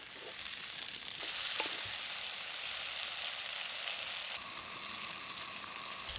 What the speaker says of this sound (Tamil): இந்த சின்ன வெங்காயம், தக்காளி எல்லாமே நல்லா வதங்கி வரட்டுங்க.